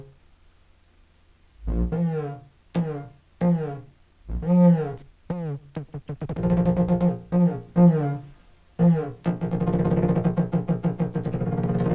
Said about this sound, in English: So this is going to give us some resonant tones